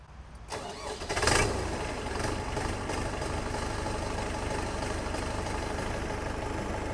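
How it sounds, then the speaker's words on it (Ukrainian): A DW 504 SDX tractor's 4L100B1 diesel engine cranks and catches, then settles into a steady, rumbling idle that continues close by and unchanged to the end. "І я одразу запускаю двигун, який має кодування 4L100B1."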